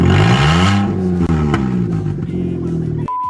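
A Mercedes W203 engine running without its exhaust starts and revs close up, pitch rising and falling with a rough, throaty roar, then cuts off abruptly.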